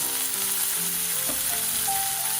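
Shrimp sizzle and fry in a pan with a steady, close crackling hiss that continues without pause, with no voices.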